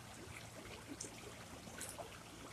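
Creek water trickles and flows softly over stones at a quiet creekside, a faint, steady babble with small bright splashes and no voices.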